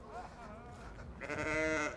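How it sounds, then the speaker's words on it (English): Sheep bleating inside a tent at an agricultural fair, several animals calling in overlapping, wavering cries that grow louder toward the end, with a busy murmur of voices underneath. "I think this is sheep"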